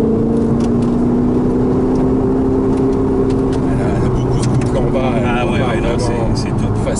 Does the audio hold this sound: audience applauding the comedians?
no